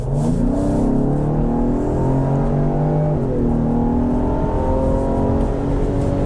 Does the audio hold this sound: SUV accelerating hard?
yes